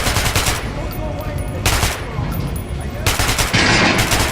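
Rapid bursts of gunfire from the Metro Last Light video game, several loud volleys in quick succession with short gaps between them, heard up close over a steady background din.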